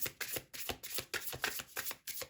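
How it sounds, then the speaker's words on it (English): Rapid riffle shuffling of tarot cards, a series of crisp papery bursts in a quick, even rhythm, close and fairly quiet, with no voices. "One last shuffle."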